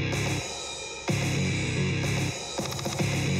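A mathcore riff in 7/8 built on power chords, loud distorted guitar chugging in short choppy bursts with abrupt stops and restarts, and no voices.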